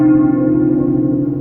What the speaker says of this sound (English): the bell from the town square is a sound of joy.